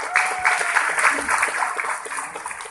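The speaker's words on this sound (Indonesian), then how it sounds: "boleh aplaus yang meriah juga buat Pak Arya" An audience at a business presentation breaks into lively applause, a dense spread of claps that swells and holds steady, with a faint voice partly underneath.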